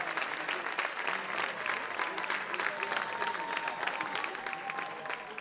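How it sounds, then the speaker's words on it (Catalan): A whole town square crowd claps hard at a Festa Major evening colour dinner, a dense, steady roar of many hands held at full strength throughout, with faint cheering mixed in. "És que us hem de fer un aplaudiment tota la plaça ben fort perquè us el mereixeu"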